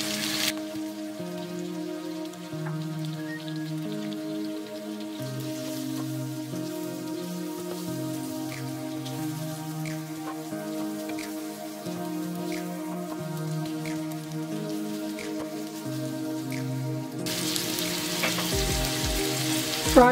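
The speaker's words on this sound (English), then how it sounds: "Fry for 2 minutes until it is slightly soft." Onion frying in a pan for a Nepali-style mutton curry gives a steady, soft sizzle and crackle throughout, with light stirring, under background music.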